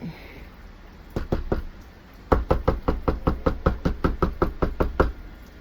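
Knuckles rap on a hollow apartment door: a few knocks, a pause, then a long, even run of about a dozen close, sharp knocks.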